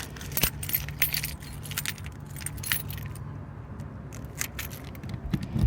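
Keys jangle and clink while locking the hatch of a 2021 Bigfoot 10.4 travel trailer, a close series of bright metallic rattles and scrapes with a low hum underneath.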